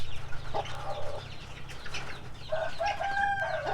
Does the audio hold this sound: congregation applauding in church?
no